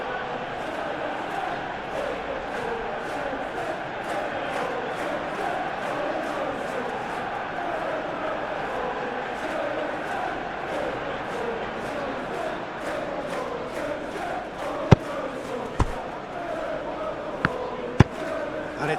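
A steady, dense stadium crowd roar from a PES 2021 football match between Manchester United and Aston Villa drones on continuously, with a few sharp percussive hits near the end.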